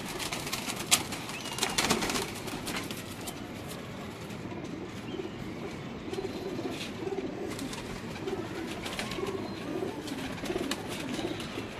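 Pigeons cooing on a rooftop, soft low repeated coos from several birds over a constant outdoor hum, with a few wing flutters and no talking.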